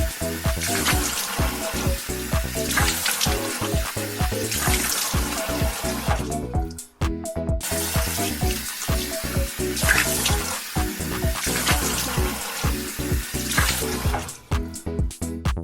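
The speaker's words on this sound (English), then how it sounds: "Okay, now I am going to brush my teeth" A bathroom sink tap runs steadily while someone brushes their teeth, a continuous close splashing water stream with brief interruptions and clinks as it is shifted.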